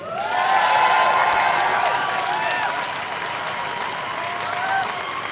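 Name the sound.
crowd applauding at a rally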